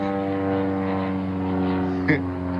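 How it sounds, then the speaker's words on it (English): A propeller airplane drones overhead with a steady, loud, humming engine tone that holds throughout. "Airplane."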